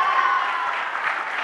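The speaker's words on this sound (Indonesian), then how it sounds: "Ini dia, tepuk tangan dong." Audience at a school event in Pekanbaru clapping together, a dense, even burst of applause sustained throughout at moderate loudness.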